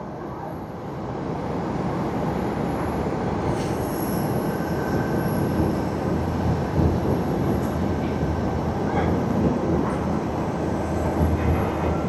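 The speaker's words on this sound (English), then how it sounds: "China Eastern Airlines MU575 coming in from Beijing." A China Eastern Airlines Boeing 777-300ER arriving from Beijing at Tokyo Haneda at night produces a continuous broad, heavy roar that holds loud and even throughout, with faint distant tones riding above it.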